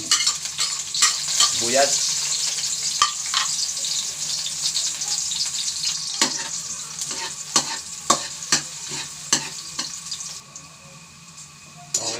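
Ampalaya (bitter gourd) being sautéed in hot oil, with a continuous loud sizzle and repeated clattering scrapes of a spatula stirring in the pan. A brief spoken word cuts in near the start.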